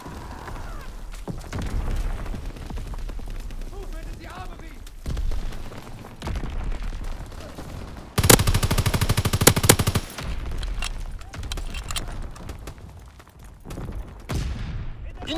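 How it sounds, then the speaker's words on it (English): Strafing-run machine-gun fire from an aircraft in the World War II shooter Call of Duty WWII: rapid automatic bursts and booms throughout, with a loud, dense rattling barrage in the middle and game voices over it. "Strafing run inbound!"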